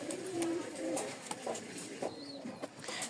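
Rajshahi Giribaz pigeon pairs cooing close by, several soft throaty coos repeating through a steady low murmur of other birds.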